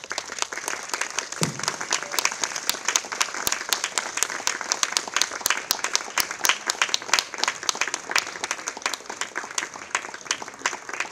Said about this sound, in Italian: chiedo per lui un grande applauso